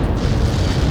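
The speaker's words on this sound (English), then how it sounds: "How many got caught in that explosion?" A missile explosion in the Ace Combat 7 flight combat game, heard as a dense, sustained low boom that rumbles at steady loudness for about a second with no speech over it.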